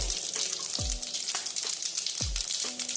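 Mustard seeds and cumin sizzle steadily in hot oil, a constant close crackle with a few sharp pops and spoon knocks against the pan, and no voices.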